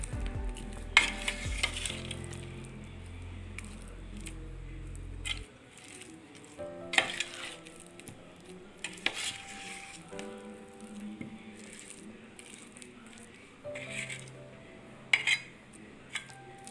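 A spoon stirs ambazhanga mango pickle in a pan, close and faint, with soft scraping, light clinks and a gentle sizzle, then a low hum that stops early on.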